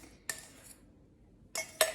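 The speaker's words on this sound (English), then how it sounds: "You're gonna wanna whisk all this together." Egg whites being whisked in a large bowl: two or three brief metallic clinks and scrapes of the whisk against the bowl, separated by a short quiet gap.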